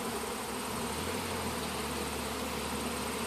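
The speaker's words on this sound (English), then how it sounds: "Here's a bee with, must have been a field bee coming back." Honey bees at an aquaponics hive make a dense, continuous buzzing drone, close and steady, with a low hum rising briefly partway through and no talking.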